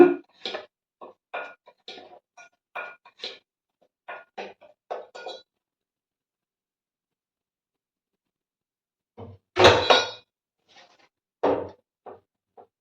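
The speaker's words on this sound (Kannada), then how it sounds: "ಇದನ್ನೆಲ್ಲ ಚೆನ್ನಾಗಿ ಮಿಕ್ಸ್ ಮಾಡ್ಕೋತೀನಿ." Semolina and rice flour being mixed for dosa batter in a bowl, sparse clinks and scrapes of a spoon against the bowl in two short bursts separated by a quiet pause.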